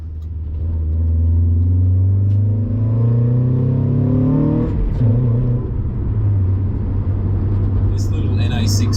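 A 1990s car engine revs hard while driving, its pitch climbing steadily then dropping and settling into a lower drone, loud and close inside the cabin while someone talks over it.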